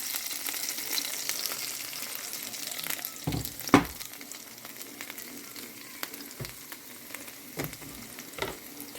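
Pork chops and home fries crisp in a frying pan with a steady, close sizzle, broken by a few louder clatters and scrapes from turning the food.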